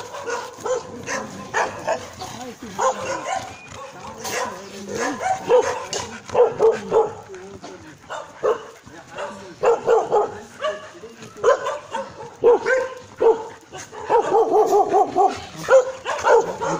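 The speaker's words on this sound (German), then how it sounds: "Und der Charley hat gelähmte Hunde, blinde Hunde, operierte Hunde." Several dogs, some paralysed, blind or recovering from surgery, bark, yip and whimper in overlapping bursts, close and fairly loud, continuing for the whole stretch.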